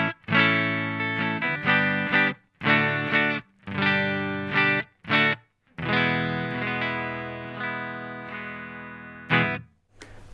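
Clean neck-pickup tone from a Fender Stratocaster played through a Boss Blues Driver input, several strummed chords ringing in bursts with short gaps, then one long sustained chord, close and alone.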